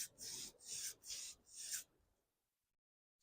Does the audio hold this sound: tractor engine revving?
no